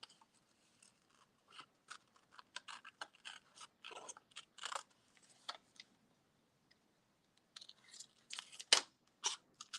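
Scissors snip through paper cutouts in short irregular bursts of crisp clicks and crunches, close and quiet, with brief pauses between runs of cuts.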